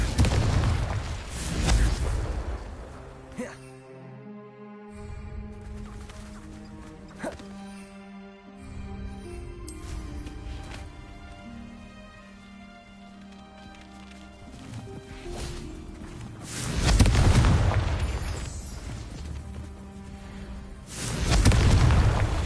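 Several booming blasts from a Confringo explosion spell in a Harry Potter video game, bursting loudly against layered game music, with quieter stretches between the heavy detonations.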